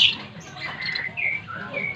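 Pet munia finches chirp in short, high tweets at close range, several small calls scattered over a steady low background.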